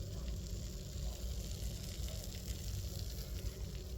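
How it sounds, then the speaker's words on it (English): A faint, steady sizzle hisses continuously from a pizza cake cooling in a 12-inch cast iron pan, with a low background hum, no voices present. "let it cool down and finish sizzling because you can still hear it"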